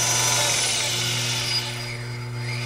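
Old metal lathe running again after years idle, driven by a new PU cord V-belt that is slightly loose, giving a steady close motor hum with a continuous whir and faint rubbing, alone with no talk.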